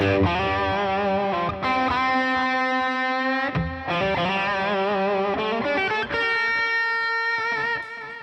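Sustained overdriven guitar notes bloom with prominent echoing delay and reverb tails, the delay level turned up on a Boss ES-8, played continuously at a strong, even level.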